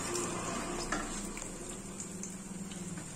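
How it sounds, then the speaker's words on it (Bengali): Fish pieces and other ingredients frying in hot oil for a Bengali kalbaus fish curry, a soft, steady sizzle with faint stirring, fairly quiet and without speech. "এই তেলে আবার এইগুলো আমি ওই রকম ভাবেই একইভাবে ভেজে নেব।"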